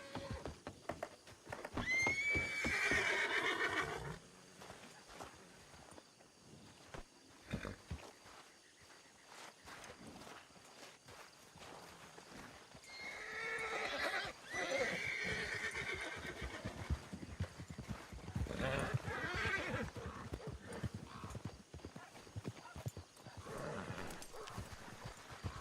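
A horse whinnies loudly several times, and hooves clip-clop nearby. A dog can be heard faintly in the background of the busy outdoor scene.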